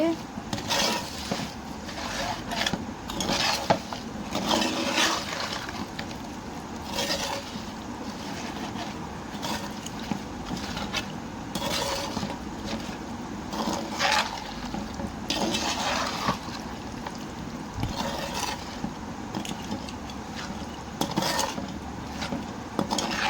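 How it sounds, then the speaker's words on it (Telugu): Lemon juice being mixed into chicken pickle, with soft, repeated scraping and clinking of a utensil against a pot, faint and steady throughout. "రసాన్ని వేసుకొని బాగా కలుపుకోవాలి."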